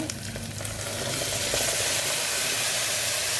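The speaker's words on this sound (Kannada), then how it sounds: "ಗೋಡಂಬಿ ಹಾಕ್ತಾಯಿದ್ದೀನಿ ಸ್ವಲ್ಪ ಫ್ರೈ ಮಾಡ್ತಾಯಿದ್ದೀನಿ ಈಗ" Cashews fry in a pan of hot oil, a steady, close hiss and sizzle that swells and holds evenly, with faint stirring clatter near the start and no talking.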